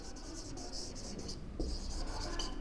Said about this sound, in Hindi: एक सेंटेंस हम और लिख देते हैं।